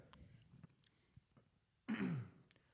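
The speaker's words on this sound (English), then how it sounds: "Just clearing my throat for this monumentous moment" A single loud, close throat clearing near the end, after a stretch of quiet with faint clicks and movement.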